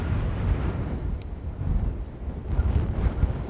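Gale-force wind buffeting an outdoor microphone while filming wildlife, a loud continuous low rumbling roar with gusty swells and no voices.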